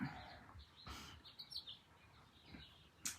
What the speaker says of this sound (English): Birds are chirping right now.